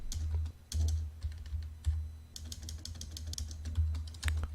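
Text typed into an Excel cell on a computer keyboard, with steady bursts of clicking keystrokes and brief pauses between them, close and clear with no talking.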